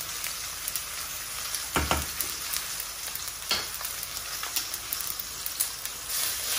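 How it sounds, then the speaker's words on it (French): Veal shanks for osso buco sizzling in a pan with steady crackling, punctuated by a few louder scrapes and clacks as the meat is stirred. No voices. "On va tourner notre viande tout gentiment comme ça."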